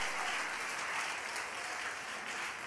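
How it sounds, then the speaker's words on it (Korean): A church congregation at a Friday worship service applauds in dense, steady, sustained clapping that fills the room evenly from start to finish, with no voices rising above it. "주님께 영광의 박수 올려드리겠습니다"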